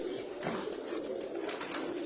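Racing pigeons at a loft during a pigeon tournament, cooing softly in a steady low murmur with a few brief flutters, close by and without any talking.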